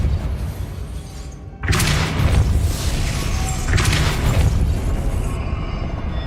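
A Depulso spell cast in the video game Hogwarts Legacy erupts as a loud, sudden magical blast, followed by a rumbling crash and a second surge of rushing noise before it fades.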